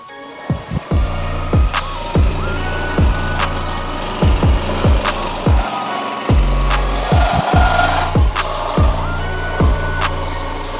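Frame rails being cut off the front of a Formula Supra car in a shop, with a steady engine-like hum under repeated sharp clanks and thuds from metalwork at irregular intervals.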